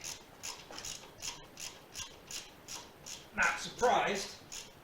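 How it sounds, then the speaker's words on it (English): A ratchet with a 5/8 socket works loose the tight oil drain plug on a Harley-Davidson Dyna. It makes a steady, rhythmic run of close clicks, then a louder scraping burst near the end, with a brief spoken remark. "Now we're going to drain. Again, 5/8 socket. Everything's gorilla tight."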